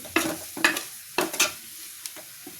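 Chicken curry masala cooking in a pan, with bursts of sizzling and scraping stirs arriving in quick irregular strokes, then fading to a few lighter scrapes.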